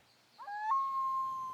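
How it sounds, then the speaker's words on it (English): Common loon calling on a still lake, a single clear, wavering wail that rises and then holds a long, steady note, moderately close and alone, with no talking. "Hear that? That's a loon call."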